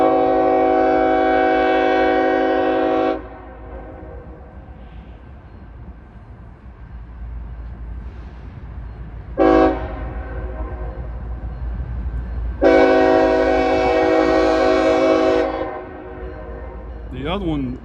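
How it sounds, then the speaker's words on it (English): A freight train horn blasts at a railway crossing in two long, loud chords with a short toot between, over the rumble of rolling cars, and a brief chime sounds at the end. "we've got a train coming from the other direction"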